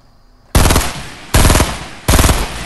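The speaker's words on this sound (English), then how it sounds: "we got some good bullets into him" Three short bursts of rapid machine-gun fire from the Fortnite video game, loud and close, each lasting about half a second with brief pauses between them.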